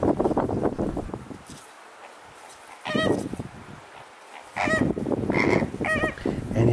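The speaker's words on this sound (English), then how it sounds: "Wow, they are gorgeous birds." Geese honk loudly and close in a French marsh of tall wispy grass, calling in several bursts with quiet wind-filled gaps between them.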